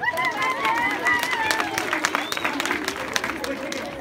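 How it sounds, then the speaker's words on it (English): Audience applause at a primary school science fair awards ceremony, a steady wash of clapping from a crowd of children and adults with chatter mixed in, filling the room throughout. "Clapping for him."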